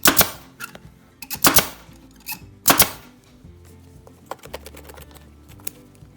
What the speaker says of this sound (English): So I'm gonna staple along this line